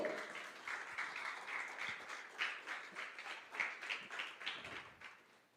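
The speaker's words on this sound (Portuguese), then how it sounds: "Você pode aplaudir ao Senhor?" Church congregation applause, steady hand clapping from many people filling the space, sustained for several seconds at a moderate distance, fading slightly at the end.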